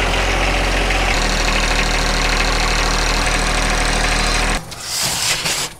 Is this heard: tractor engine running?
yes